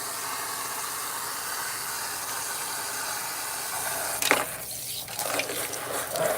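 Water from a salon rinse hose sprays steadily over hair, a close continuous hiss that breaks off near the end into brief splashes and handling sounds.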